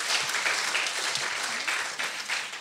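An audience claps steadily through a public conversation event, dense and fairly loud with no voices on top.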